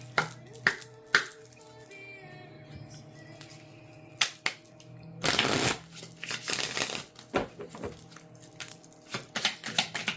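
A tarot deck is shuffled up close, with crisp riffling card flutters, scattered sharp snaps and clicks, and one longer, denser burst of shuffling near the middle.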